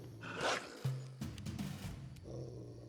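A dog growls and snarls in Pathfinder: Kingmaker, giving a few short, throaty rumbles mixed with game combat sounds and a low hum, fairly close and loud.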